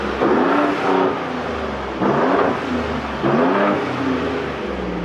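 A 2019 Ford Raptor pickup with a straight-pipe exhaust revs up three times in a steady rhythm, each loud close rise settling back to a rumbling idle between bursts.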